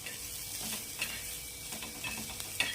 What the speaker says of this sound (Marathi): हे बघा आपले कांदे आता छान असे लाल पडलेले आहे तर आपण या कांद्याला साईडला ठेवायचं आहे